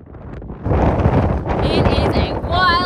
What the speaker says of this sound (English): It is a wild and windy day on the track today.